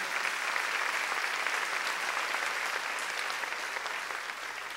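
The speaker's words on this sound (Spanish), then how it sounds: "Démosle un aplauso." Church congregation applauding its elders during a Sunday service, a dense, sustained wash of many hands clapping for several seconds, even and full, tapering slightly toward the end.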